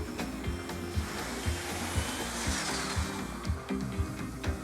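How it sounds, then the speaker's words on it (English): A 3D printer running in a children's cartoon, heard as a steady mechanical whirring hum with regular rhythmic motor pulses and faint high sweeping tones, without talk. "The 3D printer."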